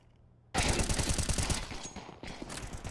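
Rapid automatic AK rifle fire in a Counter-Strike 2 esports match, a dense close burst of shots starting abruptly and continuing with a second, slightly quieter string.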